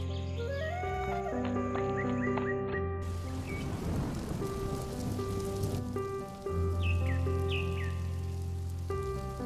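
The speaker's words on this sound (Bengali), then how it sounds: "আকাশটা মেঘলা হয়ে আসছে, যে কোনো সময় বৃষ্টি আসবে।" Rain falls steadily in a Bengali fairy-tale cartoon, a continuous patter that starts a few seconds in and runs under a tuneful music score.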